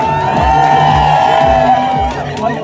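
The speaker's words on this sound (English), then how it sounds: "Let's give these young people a round of applause." A loud crowd at an Indigenous market cheers and shouts together after a dance performance, a sustained roar of voices with whoops rising over it, close and energetic.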